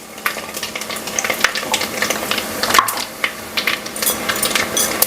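Mustard seeds, vadagam and two or three dried chillies tempering in hot oil in a pan of cooked mutton, a steady crackling sizzle with sharp pops and spatters throughout, fairly close, with no talk.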